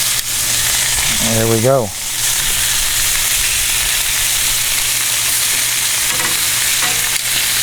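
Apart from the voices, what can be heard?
pork chops searing and sizzling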